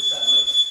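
An electronic alarm beeps with a sustained high steady tone inside an abandoned mansion, fairly loud and continuous through the short moment, with faint room noise beneath.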